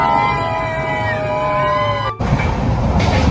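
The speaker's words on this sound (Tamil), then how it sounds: "சாதாரணமா ட்ரெயின் போயின்னு இருக்கும்போது ஓகே, டனல் உள்ள போனா மட்டும் ஏன் அப்படி?" A train runs loud and close with a steady rumble and rail noise, and the sound cuts and changes abruptly as it enters a tunnel.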